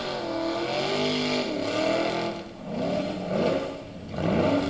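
A truck engine at the Goat Hill race revs hard, its pitch repeatedly climbing and dropping as it works up the hill, heard at moderate distance and fairly quiet.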